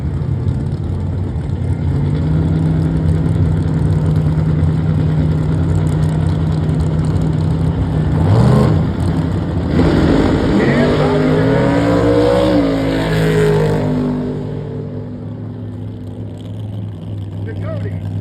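Naturally aspirated drag racing cars with engines over 600 cubic inches idle loudly at Gulfport Dragway, then rev and roar off the line together, the deep engine blare swelling and fading away, with an announcer talking over it.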